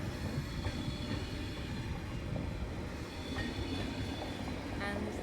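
A French passenger train rolls along the rails with a steady low rumble and faint rhythmic clicks, heard from on board, continuous and fairly loud.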